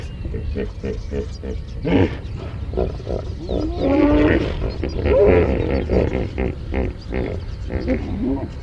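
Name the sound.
deep noise of hippos surfacing in water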